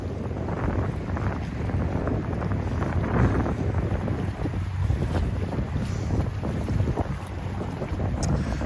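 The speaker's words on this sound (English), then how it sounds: "It's windy out here." Strong wind roars across a waterfront pier in New York City, a dense, continuous rumble buffeting the microphone with no pauses and no voices.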